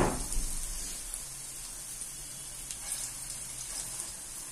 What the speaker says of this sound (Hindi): यहाँ मैंने पहले से तेल गरम रख दिया था कढ़ाई में, तो अब मैं छोटी छोटी सी पकौड़ी इसमें बना रही हूँ